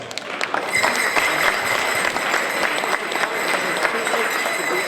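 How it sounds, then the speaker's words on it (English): A crowd claps steadily with scattered cheers, loud and continuous throughout. "Give yourselves a round of applause"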